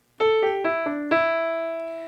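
Four quick piano notes step downward in an even, rapid triplet group, followed by a single note that rings out and slowly fades.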